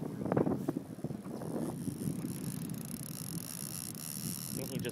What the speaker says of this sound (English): I think he just heard the boat